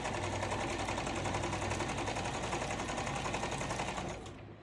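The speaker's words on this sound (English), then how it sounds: "I'm hoping you can hear me okay over my sewing machine." A sewing machine runs steadily at a quick, even stitching rhythm, close and continuous, then winds down and fades at the end.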